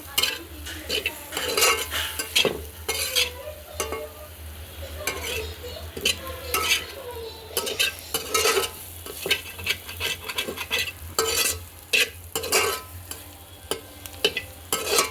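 Colocasia frying with coriander leaves over a village wood-fire stove, stirred in a pan with repeated sharp scraping and clinking strokes over a continuous sizzle, close up and with no talk.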